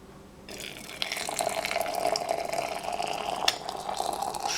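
Water pours into a cold mug for tea, a steady hissing, splashing stream that starts abruptly after a brief quiet moment and continues close and moderately loud, with faint clinks near the end.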